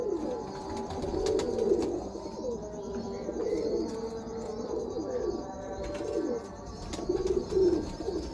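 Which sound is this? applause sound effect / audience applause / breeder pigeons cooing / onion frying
breeder pigeons cooing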